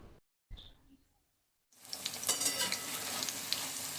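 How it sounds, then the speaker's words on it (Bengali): Battered pumpkin flowers drop into hot oil after a couple of brief soft knocks, then a close, steady crackling sizzle of frying fills the rest of the clip. "এইভাবে সুন্দর করে ব্যাটার লাগিয়ে গরম তেলের মধ্যে ছেড়ে দেব"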